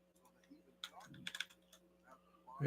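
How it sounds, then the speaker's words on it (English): Someone types on a computer keyboard in a quiet room, making a short, faint cluster of quick keystrokes with a voice nearby. "Just type that in here."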